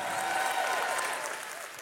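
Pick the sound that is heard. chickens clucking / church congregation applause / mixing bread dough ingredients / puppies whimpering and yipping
church congregation applause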